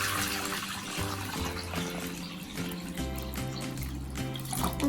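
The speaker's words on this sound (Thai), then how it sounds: "เดี๋ยวเราจะเทน้ำ" About 1.5 litres of water pour steadily into a bag as the first step of making slime, a continuous gushing fill of moderate loudness with no talking.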